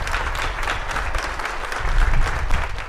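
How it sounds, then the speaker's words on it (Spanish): A large crowd gives sustained applause to health sector workers at the opening of a community health centre, loud dense clapping that swells toward the end. "a ellos vamos a darles un aplauso"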